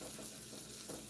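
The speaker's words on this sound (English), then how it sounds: "Trying to get like a better sear on this side." Food sears in a hot pan, giving a steady, close sizzle with crackling fry noise and faint stirring, heard on its own without talk.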